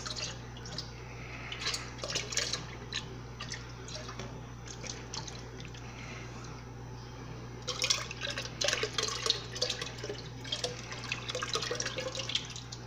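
Liquid pours and splashes steadily into a vessel while chocolate porter beer is brewed at home, with a continuous watery trickle and a brief burst of louder splashing partway through.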